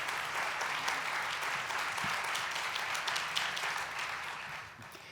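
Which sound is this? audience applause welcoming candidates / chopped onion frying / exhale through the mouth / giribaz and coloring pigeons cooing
audience applause welcoming candidates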